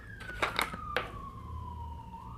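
Siren going off outside, a faint distant wail gliding slowly downward in pitch behind a few soft close rustles and taps in a quiet room.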